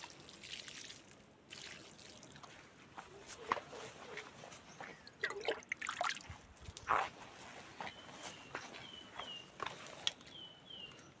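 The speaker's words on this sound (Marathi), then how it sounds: "गुलाबाच्या झाडा पण पाणी घालूया" Water trickles and pours softly in short bursts onto rose plants on a farm, amid footsteps and rustling outdoors, fairly quiet, with a few distant chirps.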